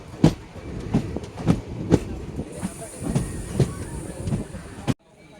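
Passenger train rolling slowly past Old Malda Junction in India, heard from on board, with a steady rhythm of wheel clunks on rail joints, hiss in the background, and the sound cutting off abruptly at the end.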